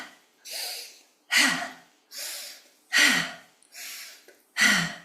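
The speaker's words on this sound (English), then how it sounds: "breathing in and breathing out" Warrior breath exercise done forcefully through the nose: six deep, rushing breaths alternating between long inhales and sharp exhales, close and loud with even pauses and no talking.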